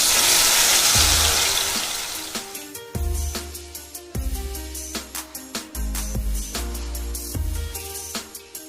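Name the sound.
ground cashew onion paste frying in oil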